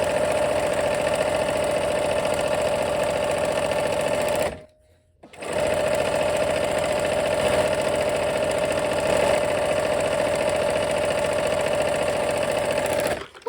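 Sewing machine stitching fabric for a summer throw quilt, a steady loud mechanical hum and rapid rattling whir, briefly stopping for a moment midway before running on continuously.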